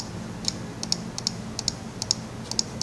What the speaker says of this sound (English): Remember, I'm just clicking and letting go.